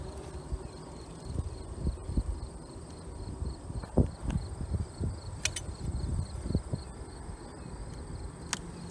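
Honeybees hum steadily in a Layens hive fitted with a 2-gallon bucket feeder ahead of winter, a low continuous buzz with scattered outdoor knocks and brief sharp ticks.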